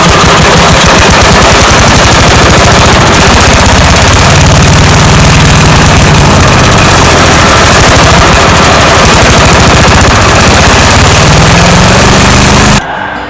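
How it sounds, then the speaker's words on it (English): A Tecumseh 8HP engine on a Cub Cadet chipper shredder runs loud and close with a dense, rapid popping chatter and steady low rumble, holding throughout before cutting off abruptly near the end. "you want to get it running long enough till you make sure the engine gets warm"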